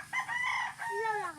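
A rooster crows with a long, wavering cock-a-doodle-doo over about a second and a half, fairly close, among a flock of gamefowl chickens on a breeding range.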